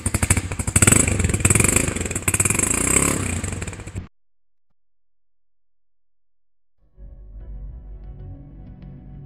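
A Honda CG150 motorcycle engine runs loud and close with a throaty, rapid-firing idle, cuts off abruptly, and after a few seconds of silence a quieter, rougher engine rumble starts again.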